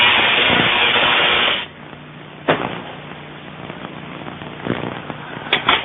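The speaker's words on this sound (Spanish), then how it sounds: "Un pedazo de lana de acero explota en llamas inmediatamente." Steel wool flaring into flames with a loud crackling whoosh for under two seconds, then quieter scattered pops and sparkles that sputter on and off close by, with no talking.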